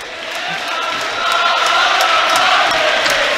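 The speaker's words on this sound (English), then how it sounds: "Misha Nichlas Adar chants coming from the crowd" A large basketball crowd at a conference semi-final game fills the space with a loud, sustained roar of chanting voices that grows slightly stronger partway through and carries on without a break.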